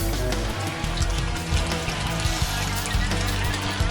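Water streams steadily from a leaking hose on an air conditioner, a continuous trickling and splashing heard close up, with faint voices in the background.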